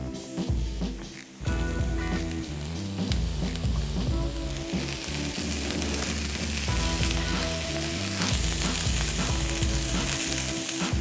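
Onions, garlic, celery and jalapenos sizzle loudly in a pan, a dense continuous crackle with tonal kitchen hum beneath, briefly dipping early on and then holding steady throughout.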